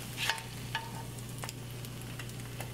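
Eggs cook in a pan for a grilled cheese sandwich, producing a soft, even sizzle with a few light scraping ticks, heard close and alone.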